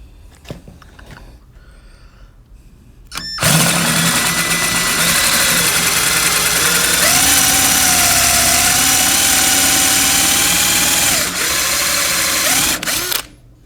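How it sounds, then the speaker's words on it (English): A drill runs steadily for about ten seconds, cutting a countersink slowly into drilled, WD-lubricated holes in the cylinder heads of a 1968 Winnebago engine, a high whirring drone with a slight change in pitch partway through, close and alone. "We're gonna hit them with the countersink. Nice and slow."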